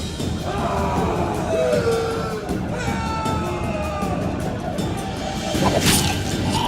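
A rioting crowd in a cutscene from the video game The Witcher 2, with elves and dwarves attacked in the streets: a loud, continuous roar of shouting voices, with a crash and a swell of noise near the end.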